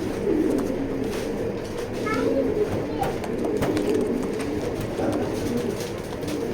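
Checker pigeons coo in a loft, soft low repeated coos over a busy background murmur with faint distant noises.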